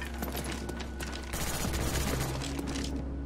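Sentry gun fire in a Call of Duty video game, a rapid automatic rattle of shots with a louder burst midway, amid game background noise.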